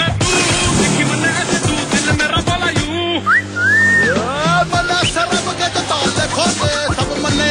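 Whistling in a TVS Star City Plus 110 cc motorcycle TV advertisement: short rising and falling whistled glides over busy backing music.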